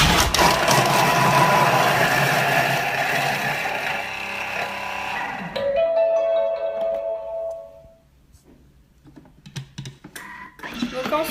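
A Thermomix chops an onion at speed 5 for paella, a loud whirring, rattling blade run for about five seconds that winds down into quieter clicks and handling.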